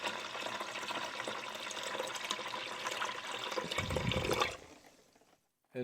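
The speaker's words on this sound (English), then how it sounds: "So let me pour some water in there." Clean filtered water pours steadily into a container for glue-making, a continuous splashing and trickling close by that swells near the end, then stops abruptly.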